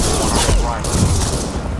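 Rapid gunfire bursts loudly and continuously in the video game Ghost Recon, a dense close barrage of shots.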